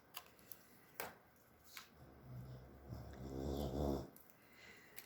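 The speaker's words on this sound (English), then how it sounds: "Snoring dog." A dog snores softly nearby in slow, rumbling breaths, the last snore building louder, with a few faint clicks and rustles around it.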